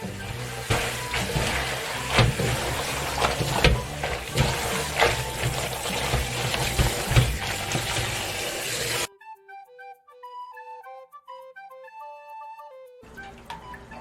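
Water splashing and swishing as salted haruna greens are rinsed by hand in a bowl for kimchi, a continuous close splashing that cuts off into a short tinkling music-box melody before the water resumes.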